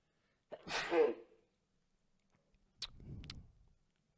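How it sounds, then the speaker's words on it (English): A single loud sneeze with a sharp intake before it, followed by a short sniff and a quieter exhale in an otherwise quiet room. "there's a sneeze coming."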